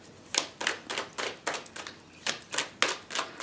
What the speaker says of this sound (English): I do overhand shuffling.